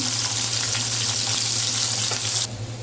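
Garlic cloves and onion hit hot oil in a wok, giving a steady, close sizzling hiss with faint stirring clicks that ends abruptly near the end.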